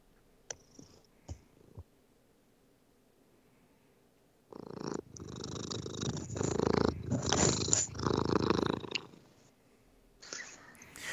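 A cat purring close to the microphone, a low rhythmic rumbling purr that swells in bursts after a few faint clicks and quiet moments.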